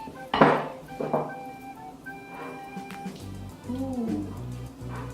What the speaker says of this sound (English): So currently we're mixing 160 grams of butter and 125 grams of brown caster sugar and normal caster sugar.